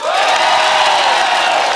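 Loud studio audience cheering and whooping on a Hindi TV comedy show as the host welcomes the three dance judges, a steady, dense crowd roar with no break throughout.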